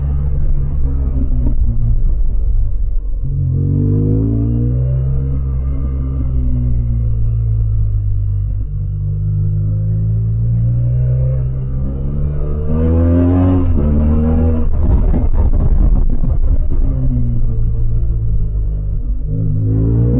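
A BMW R1200GS Adventure motorcycle engine heard while riding, loud and close. Its rumbling note rises and falls repeatedly with throttle and gear changes, and there is no talking.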